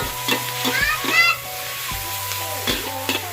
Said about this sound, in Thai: ผัดทุกอย่างให้เข้ากันนะครับ